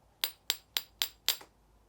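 Metal eating spoons tapped together as a percussion instrument: five crisp, bright clicks at an even, steady pace, close and clear with no talking.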